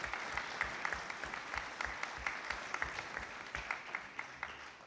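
Clapping from an audience at a Southampton town meeting, a dense patter of many hands that carries on steadily throughout, heard at a moderate distance and fairly soft.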